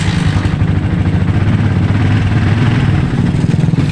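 A Yamaha Vixion motorcycle engine runs loud and close, a steady rough mid-pitched chug with rattly clatter, briefly surging and faltering as the throttle is opened and it struggles to stay running.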